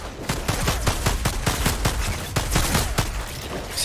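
Rapid bursts of gunfire from two pistols fired at once in the video game Outriders, loud and dense sharp cracks repeating in quick rhythm for several seconds with no talking.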